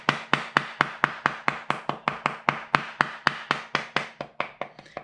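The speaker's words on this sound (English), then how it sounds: "You just hammer it down." A shoe upper glued to the insole with contact cement is hammered down in a workshop, a steady run of about twenty sharp, close taps in even rhythm with no talking.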